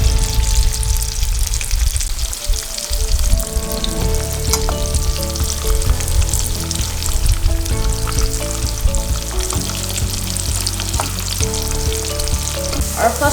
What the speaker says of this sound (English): Fry both sides.